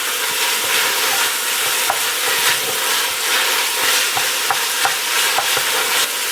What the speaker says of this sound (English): you want to cook out the oil out of the paste because it's going to bring out that flavor